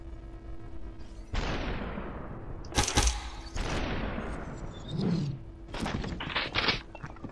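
Gunshots from the video game SuperHot sound as several sharp, punchy blasts spaced a second or two apart, each trailing into a decaying rumble, loud and close, over a steady low hum.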